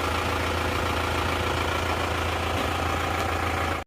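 An Isuzu Panther diesel engine with heavy blow-by after running out of radiator water, idling with a loud, dense, steady clatter and rumble that cuts off abruptly at the end.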